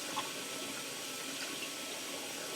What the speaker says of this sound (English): And I'll rinse that cilantro in there.